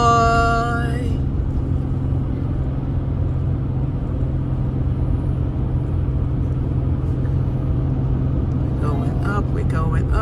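A family car's engine labours up a steep mountain hill, a steady low droning rumble heard from inside the cabin, with a brief tonal sound at the start and faint voices near the end.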